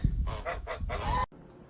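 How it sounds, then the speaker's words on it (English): A hen clucks in a few short, close bursts over a steady background hum, then everything cuts off abruptly. "it looks like this hen's trying to lay there too"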